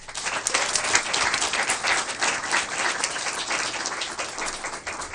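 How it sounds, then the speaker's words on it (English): Sustained applause from a school board meeting audience honoring state champion student athletes and their coaches, a dense steady wash of many hands clapping at once, full and even throughout with no talk over it. "Let's give another round of applause to our state champions, student athletes, and their coaches."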